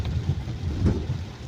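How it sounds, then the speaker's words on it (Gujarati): Heavy rain pours steadily in a town market street in Bodeli, a dense continuous roar of water with a low rumbling undertone and no voices. "ભરપૂર વરસાદ છે."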